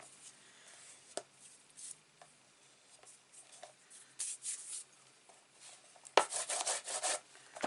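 Dry rubbing and rasping of a fingertip pressing paper down onto a Stamperia folio album page, a few soft strokes early then a denser, louder burst of rubbing near the end, close and with no voices.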